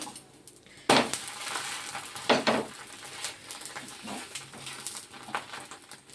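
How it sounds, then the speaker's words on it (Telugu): Dosa frying in a pan on the stove, with a soft background sizzle broken by a few loud, close scraping bursts from the pan and spatula. "ఇంకా రెండో వైపు కూడా టర్న్ అవుట్ చేసి చేసుకున్నాము"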